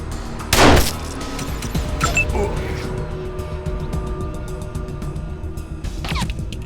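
A single loud burst of gunfire in the post-apocalyptic video game Wasteland 2, a sharp crack early on over a steady low rumble of ambient game noise, with a few faint clanks after.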